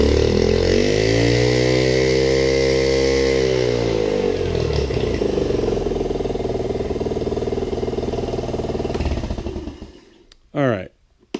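A Honda 2.3 air-cooled outboard motor runs loud and steady close by, its harmonic drone sliding in pitch as it idles and revs, then cutting off abruptly near the end with a brief restart burst.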